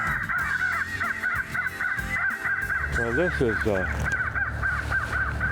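A FoxPro electronic caller blares repeated harsh crow caws over an open field. Someone talks over the calls throughout.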